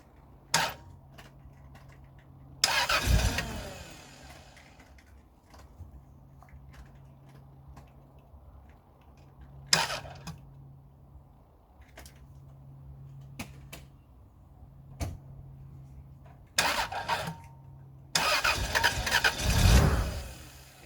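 Rover 800 engine that cranks and catches briefly then cuts out, with a suspected ignition switch fault; short bursts of starter and engine noise repeat several times between quiet stretches carrying a faint hum.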